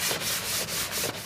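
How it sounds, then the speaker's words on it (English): A detail brush scrubs a Jeep 392 wheel in quick, rhythmic back-and-forth strokes, close and bristly with a few distinct swipes in a brief burst. "Good job of scrubbing"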